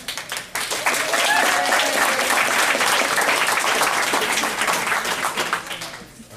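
Audience at a comic convention panel on comics bursts into sustained applause after a brief pause, steady dense clapping filling the room for several seconds before tapering off at the end.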